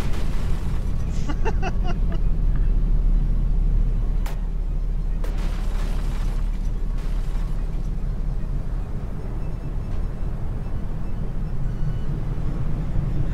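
Battleship guns firing during a From The Depths naval battle, a constant low rumbling roar with heavy booms and sharp bursts scattered across it, loud and dense throughout, with a voice faintly underneath.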